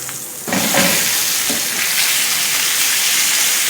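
A chicken steak hisses loudly in a hot pan after being turned over, a sudden burst of sizzling that jumps up and stays dense and steady.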